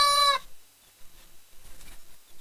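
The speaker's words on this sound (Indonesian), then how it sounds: "Suara ayam." A rooster crowing in a rural village, one loud, bright, harmonic crow right at the start that cuts off abruptly, followed by quiet outdoor ambience.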